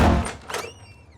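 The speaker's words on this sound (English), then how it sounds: "A door slammed in Mom and Dad's room." A door slamming in a bedroom at home: one heavy thud followed by a brief, ringing rattle that quickly dies away.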